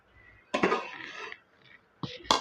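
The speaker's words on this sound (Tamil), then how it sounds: "சேர்த்துட்டு இப்போ நம்ம மூடி போட்டுக்கலாம்." Metal lid set onto a cooking pot holding moong dal and bottle gourd kootu with a little asafoetida, making a clattering clank, a brief rattle, then two sharper clinks close by.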